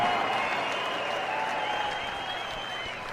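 Arena crowd applauding and cheering after a title boxing match, a dense continuous roar of clapping and shouts that stays loud and steady throughout, with faint whistles riding on top.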